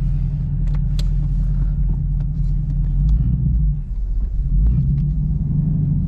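Stock Chevrolet Camaro SS with a manual gearbox driving, a steady low engine rumble close by, easing briefly near the middle before settling back to a constant drone.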